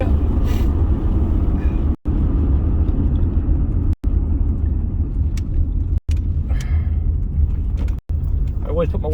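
A car rolling along a gravel farm road with the windows up gives a steady, close, low rumble inside the cabin, the drone broken only by a few abrupt dropouts.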